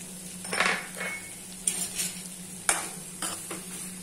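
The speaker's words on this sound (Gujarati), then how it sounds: "હવે બરાબર મિક્સ કરી દઈશું બધું જ." Stirring sabudana khichdi with crushed peanuts in a pan: a few soft scraping strokes with a utensil and light clinks against the metal, close up and fairly quiet, with no talking.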